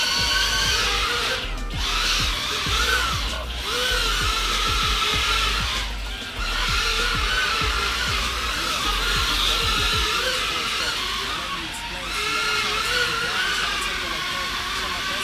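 Eachine Vwhoop90 brushless mini hovercraft motors whining steadily at a high pitch, close and fairly loud, with a few brief dips as throttle shifts, while someone talks over it throughout.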